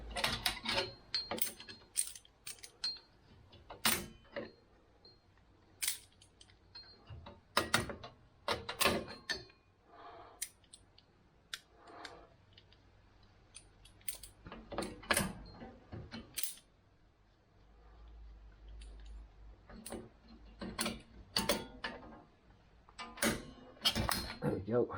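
Brake springs come off a car during hands-on work, giving sparse, quiet metallic clicks, snaps and clanks scattered among pauses while someone talks nearby.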